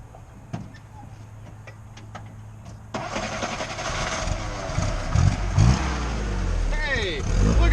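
An old 1980s Jeep engine cranks and catches about three seconds in, then runs with a loud, rough, uneven idle and revving, following some quiet clicks and faint talk.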